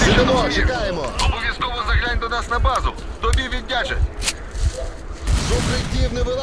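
Bursts of gunfire in the video game S.T.A.L.K.E.R.: Clear Sky crackle repeatedly at mid distance, heard beneath someone talking over the action.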